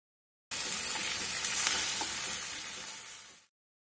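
Roughly chopped tomatoes and cashews fry in a pan for a restaurant-style paneer lababdar, giving a steady, close, loud sizzle that holds for about three seconds before cutting off, with no talking.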